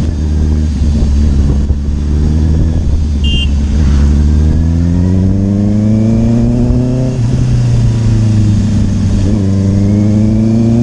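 Loud motorcycle exhaust revving hard and close, engine pitch climbing through repeated accelerations with brief dips between pulls, filling the whole stretch without speech.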